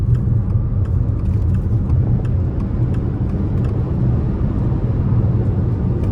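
Inside a 2024 Subaru Solterra Limited electric SUV accelerating hard around a corner, a loud, steady low rumble of road and cabin noise carries on without talking.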